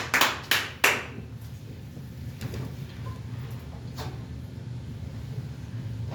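A congregation at a Resurrection Sunday church service breaks into a few loud, close bursts of hand clapping at the start, then settles into a quieter ambient room murmur.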